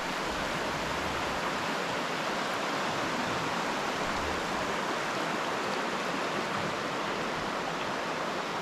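Water flowing beneath a Venetian-style stone bridge on a winter day, a steady, full rush of running water with no pauses, close and fairly loud throughout, with no voices.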